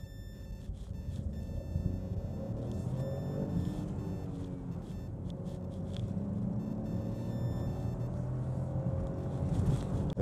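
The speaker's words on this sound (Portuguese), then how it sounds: "nível de ruído, de vibração dentro da cabine aqui é muito bom" Cabin of a Chevrolet Onix Turbo LTZ with manual gearbox, stopped on an uphill stretch: a steady low engine idle hum with faint tonal whine, continuous and moderately quiet throughout, with light intermittent clicks and no talk.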